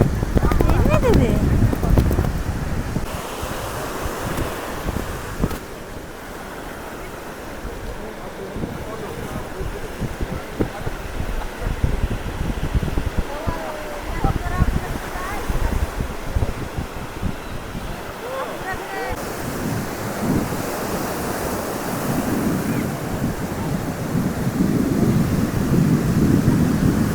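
Sea waves washing onto a beach, with surf rolling in and out under heavy wind noise, and people talking nearby over the water.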